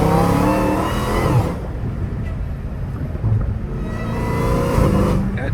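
Dodge Challenger Hellcat Redeye with straight-piped exhaust, heard close and loud as a steady low engine rumble with rising revs, buffeted by wind noise throughout, no talking.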